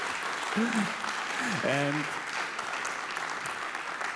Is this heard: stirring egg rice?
no